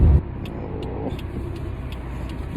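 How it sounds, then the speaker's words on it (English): Old car engine idling after twelve years off the road, heard from inside: a steady low rumble with light ticking, close and fairly loud, with no talking. "It idles perfect. It idles so well."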